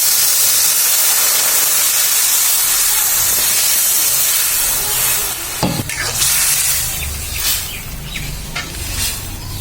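Dal poured into a hot pan with fried prawns, with a loud, continuous steamy hiss and sizzle and a sharp burst of splatter partway through as the liquid hits.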